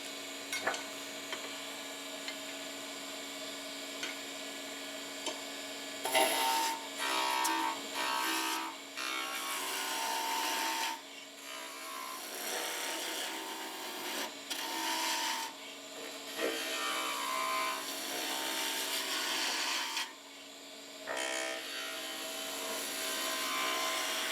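Wood is shaped down to a tenon for a three-legged stool, giving a steady, loud rasping and rubbing that runs almost continuously and breaks off in several short pauses.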